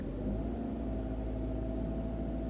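A manual-transmission car engine idles low and steady at close range, a continuous rumbling hum with a slight swell as it creeps backward in reverse.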